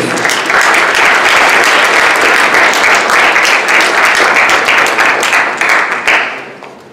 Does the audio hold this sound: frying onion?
no